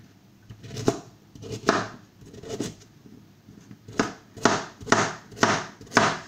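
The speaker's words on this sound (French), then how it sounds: "je vais simplement faire des rondelles comme ça, grossières" Vegetables chopped into rough rounds with a knife on a board for a beef stew: a series of crisp, close knife strikes, irregular at first and then in a steady rhythm, with no talking.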